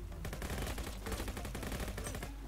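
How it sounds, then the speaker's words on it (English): Rapid automatic assault rifle fire from the browser shooter Venge.io rattles in dense, continuous bursts at close range, loud and unbroken for the whole stretch. No one talks. "we are using the assault rifle"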